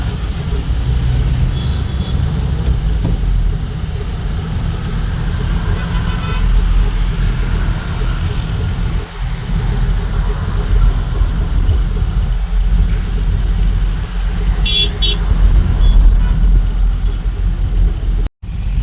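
Traffic crawls slowly in a jam on an Indian road, with cars and trucks producing a continuous low engine rumble close by from inside a truck cab, and occasional sharp horn blasts near the end.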